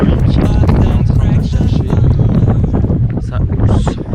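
Strong mountain wind buffets the microphone in the Sarek massif, loud and close, with rough gusty roaring throughout.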